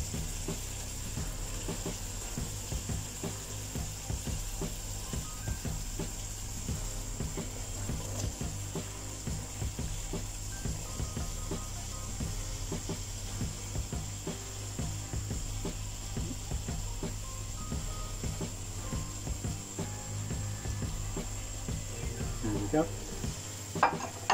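Cauliflower and peppers frying in a pan for a curry, an even close sizzle throughout with light scraping and stirring clicks, ending in a brief louder clatter.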